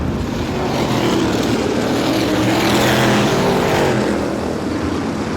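Race cars at the 51st Star Classic roar along the track with a continuous loud engine drone that swells slightly and then eases, heard alone without any talking.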